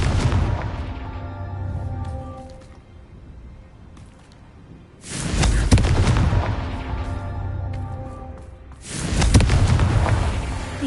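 In a Harry Potter video game, the fiery Confringo spell bursts three times, each a heavy booming explosion with a long rumbling decay, spaced a few seconds apart and sounding close and loud.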